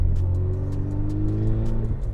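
A Chevrolet Cobalt with an LNF engine runs nearby, a deep steady rumble with a faint misfire, ending in a brief rev change.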